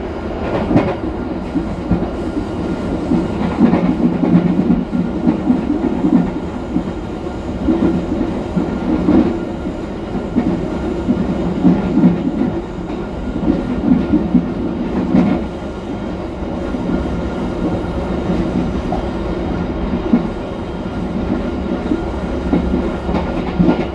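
The KA Pasundan passenger train runs along its rails on the trip from Surabaya Gubeng, heard from inside the carriage as a steady loud rumble with rhythmic clacks of wheels over rail joints throughout.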